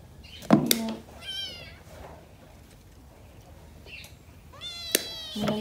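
A kitten gives a couple of thin, rising meows, one early and one near the end, close by, with a few soft thumps and quiet background.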